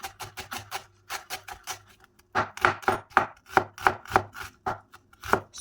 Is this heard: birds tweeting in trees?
no